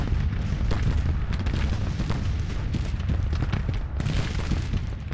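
Artillery batteries fire in a Civil War battle at Missionary Ridge in Grand Tactician, a dense barrage of overlapping booms and crackling reports rolling on continuously at mixed distances with no voices.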